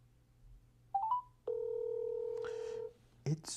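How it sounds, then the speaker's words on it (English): A telephone call's ringback tone sounds in one long steady burrr after brief dialing beeps, fairly clear over a low hum, with short noises at the end. "It's ringing."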